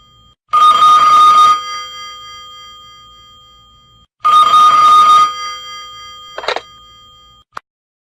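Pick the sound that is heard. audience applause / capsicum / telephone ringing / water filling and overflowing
telephone ringing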